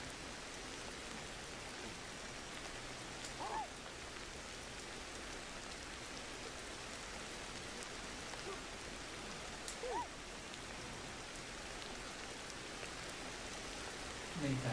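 Steady rain in Ancestors: The Humankind Odyssey pours evenly for the whole stretch, a dense hiss of drops with a few faint chirps and small sounds rising briefly above it.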